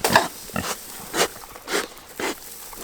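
Pigs out on pasture eat their feed ration with four short bursts of grunting and munching, close by, separated by brief pauses.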